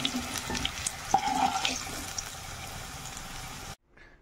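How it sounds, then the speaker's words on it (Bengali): Steady running water splashing from a tap for several seconds as meat is washed, with light clatter, then cutting off abruptly near the end. "আমি মাংসগুলো ভালো মতন করে ধুয়ে নিয়েছি।"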